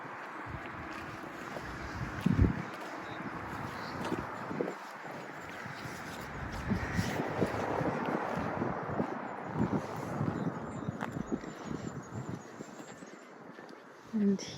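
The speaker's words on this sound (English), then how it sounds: "it's a bit of a windy day" Steady, rumbling wind buffets the microphone for the whole stretch outside Our Lady of Lourdes Catholic Church in Sawston, with gusts swelling and easing in a loud outdoor wash.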